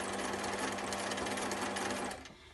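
A sewing machine runs a fast, steady satin stitch for free-motion embroidery in a hoop on water-soluble fabric, a close continuous whirring hum that cuts off just before the end.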